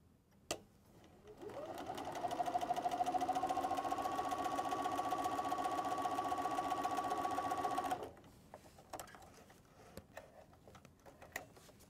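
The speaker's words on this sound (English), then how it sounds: "Stitch your rows together as well as these parts together." A sewing machine runs steadily for about six seconds while stitching quilt rows together, a fast even mechanical whir. Quiet handling clicks come before and after.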